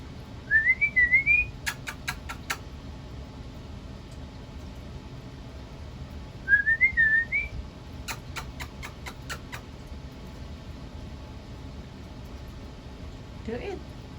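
A talking bird whistles two short, rising melodic phrases several seconds apart. Each phrase is followed by rapid clicking taps, heard close against a quiet background.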